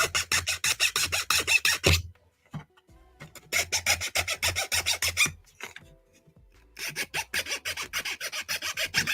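File rasping on a small part of a fireworks stand model, delivered in rapid rhythmic back-and-forth strokes in three bursts, with brief quiet pauses between them, close and fairly crisp.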